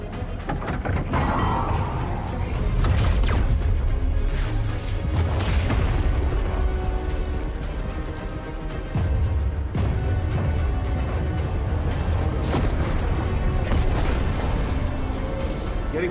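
Ship guns fire in a Star Citizen space battle as a steady barrage of deep booms and bursts, loud and continuous with a brief lull midway, dense with explosions.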